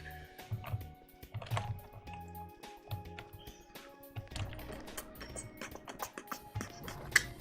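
Computer keyboard keys clatter in quick irregular bursts during a gaming session, close and moderately loud over steady tonal game music.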